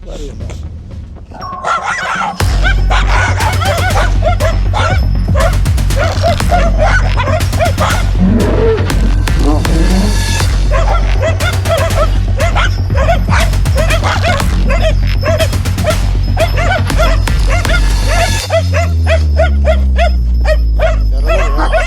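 A dog barks and yips repeatedly in fast bursts, loud and close, over a constant low hum, with a few whimpers mixed in.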